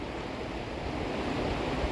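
A river rushing near a waterfall, a broad steady roar of water close by that holds evenly throughout with no voices.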